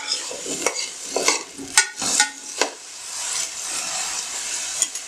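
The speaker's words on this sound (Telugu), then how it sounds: "ఇది ఒకసారి ఒక 2 minutes ఆలు పైన ఒక లేయర్ వచ్చే వరకు నేను సాటే చేసేసుకుంటాను." Potatoes being sautéed in a pan for aloo matar pulao sizzle steadily while a utensil scrapes and stirs in several sharp strokes during the first half, then the frying continues alone.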